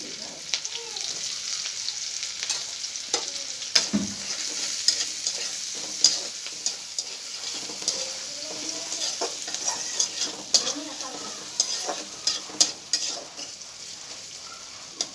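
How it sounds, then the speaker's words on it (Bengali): Shrimp frying in hot oil in a pan during home cooking, with a steady soft sizzle and repeated spatula scrapes and clinks of stirring close by, with no talk. "তো এখানে এখন চিংড়ি মাছটা ভুনা করবো এই তেলে দিয়ে।"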